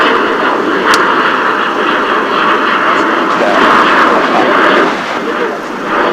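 A Boeing 777-223ER airliner built in March 2000 rumbles at DFW airport with a loud, steady jet engine roar, broad and continuous throughout.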